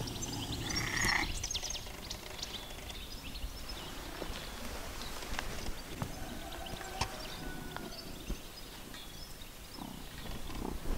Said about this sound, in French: Et ce que vous entendez là, c'est pas des grenouilles, c'est ce chat.